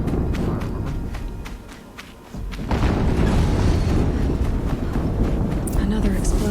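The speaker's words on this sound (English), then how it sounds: "Another explosion." Explosions in Horizon Zero Dawn: a loud, broad rumbling blast erupts midway and keeps roaring, after a quieter stretch of distant thuds, with game voices talking over it.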